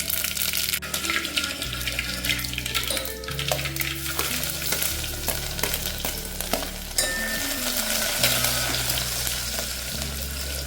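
Fenugreek, mustard and cumin seeds sizzle and crackle continuously in hot oil in a pan for a Rajasthani kadhi, close and fairly loud, with some clattering of stirring and rinsing water.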